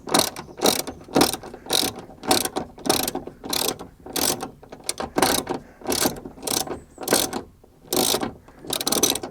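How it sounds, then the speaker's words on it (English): Hand ratchet undoing 10mm bolts on a Toyota MR2 Mk1 window motor, with rapid rhythmic clicking bursts repeating steadily stroke after stroke, close and loud with no talk. "I haven't got my best ratchet. So now we have 3 10mm bolts there."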